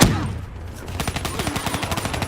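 Sustained cover fire in a Call of Duty: Black Ops 3 battle, a rapid rhythmic stream of automatic gunshots that starts after a brief lull and keeps pounding steadily at close range.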